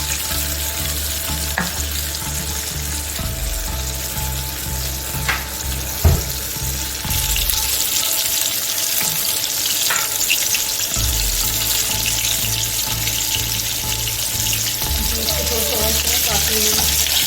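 Homemade KFC-style chicken popcorn pieces deep-frying in hot oil give a loud, steady sizzle and bubbling, broken by occasional clinks and stirring sounds, with a low hum that drops out partway through.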